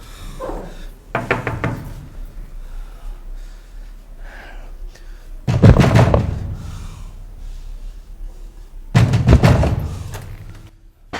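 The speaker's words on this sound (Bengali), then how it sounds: "এত জোরে জোরে দরজা ধাক্কাচ্ছিস কেন?" Someone bangs loudly on a door in three separate bursts of rapid, heavy thumps, separated by quieter stretches with faint background sounds.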